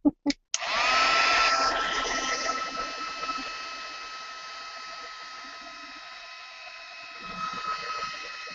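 A hair dryer blasts steadily up close to dry paint on an art journal page, a loud continuous whine and rush after a couple of brief clicks, tapering slightly at the end.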